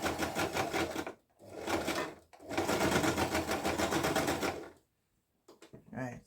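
Home sewing machine back stitching a blanket being enlarged from queen to king size, buzzing in steady bursts separated by short pauses, close and fairly loud, with a brief voice near the end.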